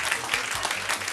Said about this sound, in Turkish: Mokka Lima'yı da alkışlayalım.